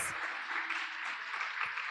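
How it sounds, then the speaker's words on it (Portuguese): A congregation at a women's church gathering applauds in a brief, steady patter of many hands, fairly faint and distant, with no talk over it. "Vamos dar um aplauso ao Senhor."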